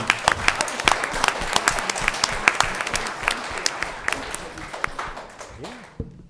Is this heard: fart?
no